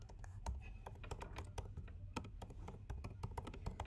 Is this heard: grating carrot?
no